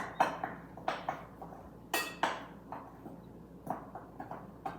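A spoon or spatula scrapes and clinks against a bowl while stirring flour, salt and sugar for homemade pizza dough, giving a series of close, irregular knocks and taps with quiet pauses between them.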